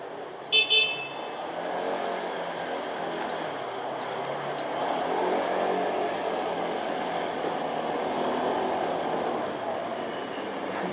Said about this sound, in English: this is all of them on scooters for their first time